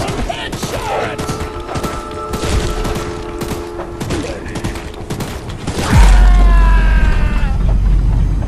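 Mounted gun firing in the horror game Choo Choo Charles, a fast continuous volley of loud shots with mechanical clatter, then a heavy deep boom as the barrage shifts into a rumbling, whining roar.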